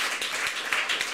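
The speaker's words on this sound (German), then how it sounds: "Vielleicht noch einen Applaus für Bernhard Jung." A brief burst of audience applause for Bernhard Jung at a museum-night event in Bern, several hands clapping in a loose, moderately quiet patter.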